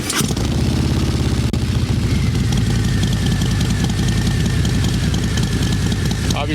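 A 2019 Harley-Davidson Fat Bob 114 with a Rinehart exhaust, already warmed up, starts and then idles with a loud, steady, lumpy rumble close by, with a brief rev near the start.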